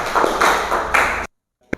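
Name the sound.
applause for group 1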